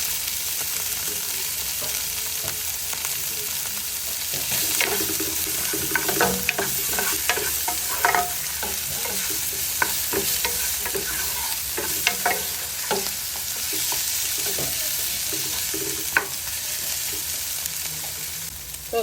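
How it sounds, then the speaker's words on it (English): Onions sautéing in a little oil in a pot, a continuous close sizzle with scattered scraping and clicking from stirring, no voices. "Just gonna add a little bit of oil to saute the onions."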